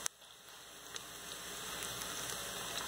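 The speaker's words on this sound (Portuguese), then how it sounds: "Fritar nosso alhinho" Garlic frying in a pan for Brazilian dobradinha, a soft steady sizzle and crackle with a few sharp pops, quiet and continuous with no talking.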